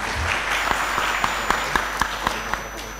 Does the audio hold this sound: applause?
yes